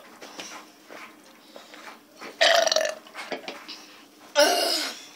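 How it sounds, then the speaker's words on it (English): Loud, drawn-out belches at a burping contest, two big rasping bursts close to the listener with quieter chatter and mouth noises between them. "This is my big burp."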